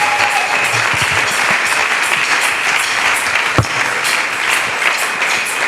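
A church congregation applauds for Jesus in sustained, dense clapping and cheering that fills the room evenly from start to finish.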